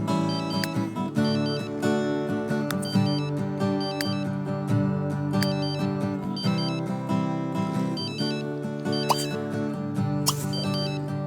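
A telephone rings in The Sims 3 as a repeating electronic tone pattern that cycles steadily and loudly over game music, with no speech.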